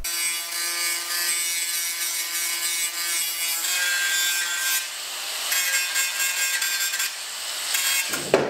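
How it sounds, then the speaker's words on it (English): A grinder scrapes paint off the bare metal of a Toyota Supra being welded up, a continuous harsh abrasive whine held close and loud for several seconds, with a brief shift in pitch near the end. "Let's see how I'm gonna clean that up with the grinder now"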